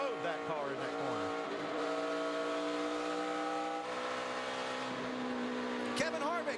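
NASCAR stock cars roar past at the 2012 Brickyard 400 at Indianapolis. The engine drone is loud, steady and sustained, with a commentator talking over it.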